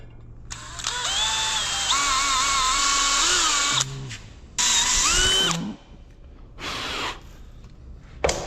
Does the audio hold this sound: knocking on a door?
no